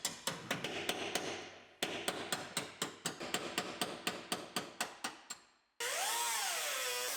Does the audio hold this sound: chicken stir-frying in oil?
no